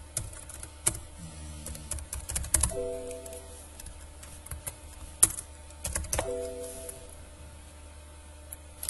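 Typing on a computer keyboard while writing Excel VBA code, with irregular bursts of close clicking keystrokes and short pauses between them, alone without speech.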